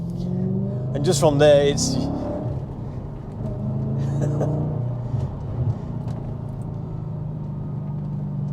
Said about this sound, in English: the exhaust on this car